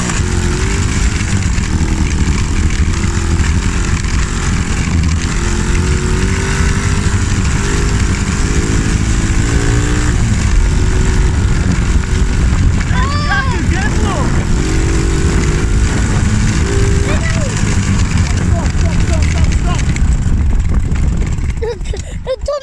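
Small monkey bike engine runs steadily throughout, a loud close motor drone with brief rising revs near the middle, while people talk over it.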